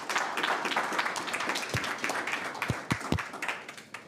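An audience at a youth entrepreneurship programme launch gives a round of applause, dense steady clapping at moderate distance with a few sharper individual claps standing out, tapering off gently at the end.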